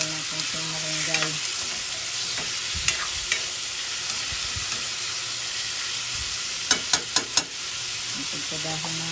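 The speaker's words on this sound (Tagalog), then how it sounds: "Halo ang sila ng konting malunggay" Mung beans with shrimp and moringa leaves sizzle and fry in a pan, with scraping stirs, a few sharp utensil clinks against the pan, and a voice talking in the background.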